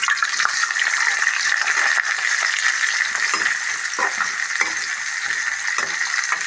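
Onion, cinnamon and cloves fry in hot coconut oil with a bright, continuous sizzle, close and loud, broken by occasional stirring scrapes and clicks.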